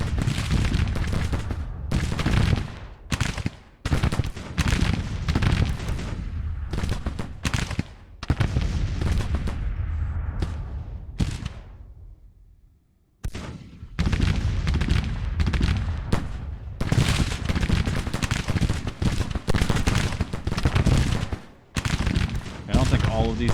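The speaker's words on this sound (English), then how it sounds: "I don't think all of these guns are firing." Civil War cannons fire repeatedly during the 1862 battles for Louisville in the strategy game Grand Tactician: Civil War. Loud booms and volleys come in dense irregular bursts, broken by a few brief lulls.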